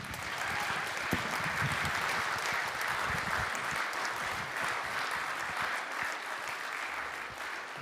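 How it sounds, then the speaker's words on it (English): Audience applause for candidates at an evening public forum, a steady dense wash of clapping that holds at full strength throughout, with a few sharper claps standing out. "let's give the candidates a round of applause"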